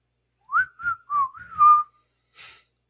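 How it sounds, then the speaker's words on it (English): A person whistles a short, wavering melody of about five sliding notes, close and clear in a quiet room, followed by a brief breathy sound. "why are you whistling?"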